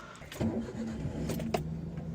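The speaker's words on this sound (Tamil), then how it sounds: "ஸோ இப்போ நம்ம கார் எடுத்துகிட்டு போகலாம்." A Maruti Alto car's engine cranks and starts on an off-road trip near Poondi falls in Kodaikanal, then settles into a low, steady idle heard close by.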